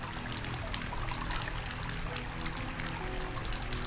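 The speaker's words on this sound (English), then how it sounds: "maybe it's too much water flowing" Tap water pouring in the video game Asylum, a steady close trickling stream heard alone.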